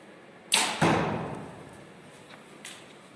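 An arrow shot from a bow in an archery event strikes the target with a sharp thud, followed a moment later by a second impact, both close and clear over quiet background, with a faint tap near the end.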